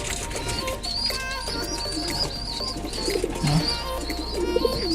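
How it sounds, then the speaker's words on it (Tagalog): Young pigeons coo softly and chirp while eating, set against a dense, steady background of noise and other sounds. "Kasalukuyan po silang kumakain. Mga kalapati."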